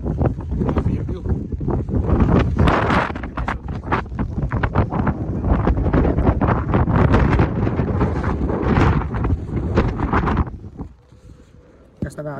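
Strong gusts of wind buffeting a microphone on a mountain beside a road under construction, a loud continuous roar that drops away near the end.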